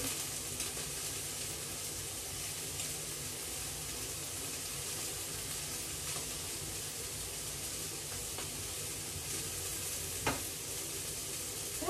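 Shrimp sizzle and fry steadily in a hot pan before coconut milk and vegetables go in, a continuous close hiss with faint stirring clicks and no talk.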